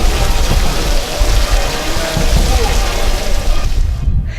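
Heavy rain pours steadily during a storm outside a church, a dense, loud hiss with low rumbles of wind or thunder underneath, thinning abruptly at the very end.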